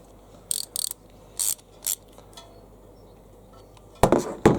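Ratcheting clicks from a wrench tightening a nut with a spring washer onto a starter solenoid terminal, several short bursts spaced apart and then two louder bursts near the end, close and alone.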